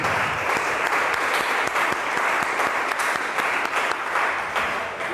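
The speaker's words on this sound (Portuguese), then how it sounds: "Vamos dar uma salva de palmas ao Senhor." A church congregation claps steadily and enthusiastically throughout a celebration service, a dense sustained round of applause filling the room.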